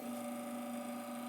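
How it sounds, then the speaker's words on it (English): The rotary pump of a Rocket espresso machine from the 2017 collection runs close by as a steady, even electric hum with a faint whirring tone and no other sounds. "So that's the sound of a rotary pump."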